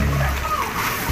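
Water splashes and sloshes onto a smoking hut during a near-fire, a continuous wet rush close by, with excited voices shouting over it.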